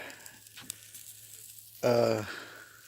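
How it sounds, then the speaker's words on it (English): Steaks sizzling over an open flame on a farm grill, a soft crackling hiss heard faintly under a voice, then swelling into a louder burst of sizzle near the end. "steaks on the grill and getting flame kissed"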